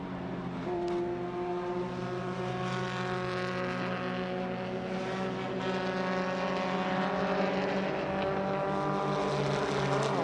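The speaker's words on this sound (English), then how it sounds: "Jean-Andre Leroux will be the next car that has him in sight." Race cars on a circuit at a regional motorsport festival, a continuous droning engine roar with layered tones shifting slightly as the cars pass, steady and fairly distant.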